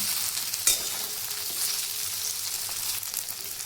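Mutton fat fritters frying in oil give a steady bright sizzle, with one sharp clack early on, close and continuous with no talking.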